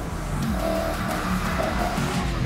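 A Ford GT40 Le Mans race car with non-assisted brakes, driven hard at Winton Raceway: a loud, steady engine roar close by, with tire squeal and skidding layered throughout.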